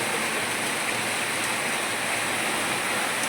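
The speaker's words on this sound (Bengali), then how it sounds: "পুরো ধুয়ো ধুয়ো হয়ে গেছে বিশাল জোরে বৃষ্টি হচ্ছে" Heavy rain pouring down hard and steadily, a dense, loud, unbroken roar of water with no breaks across the whole stretch.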